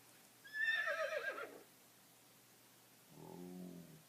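A person imitates a horse neighing, producing a loud, wavering whinny that tapers off, then a lower, shorter neigh-like call after a pause, close to the microphone.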